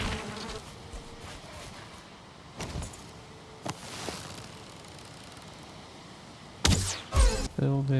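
Insect buzzing around a beehive in the survival game Valheim, a faint steady drone under ambient game sounds, broken by a few sharp clicks and a louder burst of activity near the end.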